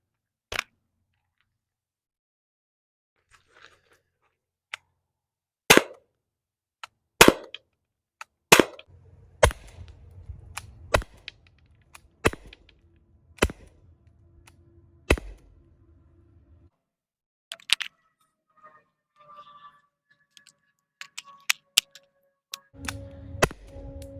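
Umarex 12-gram CO2 cartridge powering an air pistol firing nylon balls: sharp, close single pops spaced a few seconds apart, with clicks and handling noise between shots and a faint hiss in the middle.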